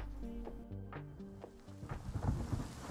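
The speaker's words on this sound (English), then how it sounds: "It's raining." Steady rain with low rumbling thunder rolling underneath in the video game Rust, growing slightly louder toward the end, with no voices.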